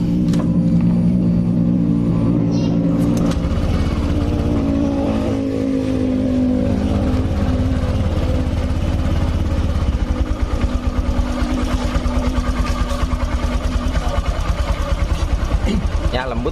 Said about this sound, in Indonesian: Coba nyalakan motor